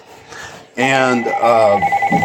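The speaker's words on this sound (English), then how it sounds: "sorry about that phone in the background," A telephone rings in the background with a sustained electronic tone, moderately loud, sounding beneath and between a man's speech.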